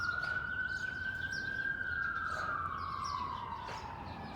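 A police siren wails steadily outside, its tone sliding slowly up and then down as the vehicle passes, loud and continuous over a noisy background.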